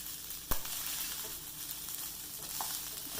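Pesto fried rice is stirred in a hot pan, keeping up a soft, even sizzle. One sharp utensil knock lands early and lighter scrapes follow, with no talking.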